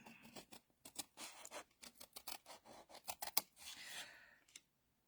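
Scissors cut through paper card for a split top box, making close, quick crunchy snips in an uneven rhythm, each cut crisp and scratchy, followed by a short longer rasp near the end.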